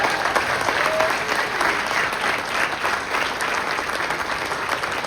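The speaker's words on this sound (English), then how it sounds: "Give yourselves a round of applause." Sustained applause from delegates and members at a union general assembly in Puerto Rico, a dense even wash of clapping from a large crowd filling the whole stretch.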